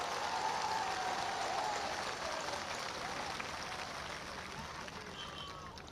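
A large crowd at a political rally claps in a broad, sustained wash of applause that eases slightly toward the end, heard from a distance with faint voices mixed in.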